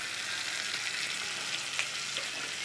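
Chopped tomato sizzles in a hot pan with garlic for a fish stew, a steady bright frying hiss with faint crackles and occasional stirring, close and unbroken throughout.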